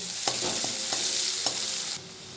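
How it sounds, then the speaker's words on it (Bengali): Chopped garlic and onion frying in a pan over fried whole spices, for a prawn and elephant foot yam curry; a close, continuous sizzle with a few soft stirring knocks, easing slightly near the end. "দিয়ে দিচ্ছি রসুনের কুচি সঙ্গে পেঁয়াজের কুচি এবারে একটু ভালো করে ভেজে নেব"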